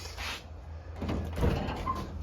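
Light custom-built car door with new hinge pins swinging open and shut in a garage, a soft creak and brief latch clunk heard close up, no talking.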